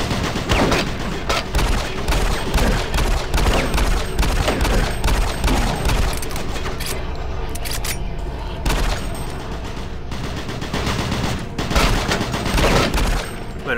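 Sustained gunfire in the Doom 3 video game, set in the Alpha Labs, with dense rapid bursts of shots close up and loud, pausing briefly and then resuming almost without let-up for the whole stretch.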